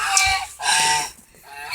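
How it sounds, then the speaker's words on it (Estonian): Three farm turkeys, a tom and two hens, calling in a few short throaty bursts with brief gaps between, close and fairly loud, no talking. "Ja siin on meie 3 kalkunit."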